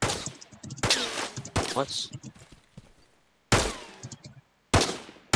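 Gunfire in the pre-alpha shooter game Adversary striking an armored helmet: several sharp, loud broadband bursts separated by gaps, with a voice talking between the shots.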